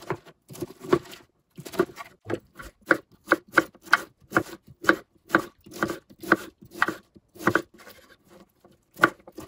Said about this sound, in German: Den Weißkohl versuchen wir jetzt in kleine Streifen zu schneiden.